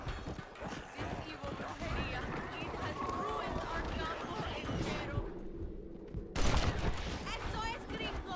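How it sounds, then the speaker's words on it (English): Video game gunfire crackles in rapid bursts and volleys alongside horse hooves clip-clopping, with a player talking over the battle noise throughout. "The gunfire is making me nervous."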